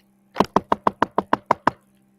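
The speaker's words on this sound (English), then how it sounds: "So here they go, knocking on the door." Nine sharp knocks on a door land in a quick, steady rhythm, loud and close with no voices, presented as a sound effect.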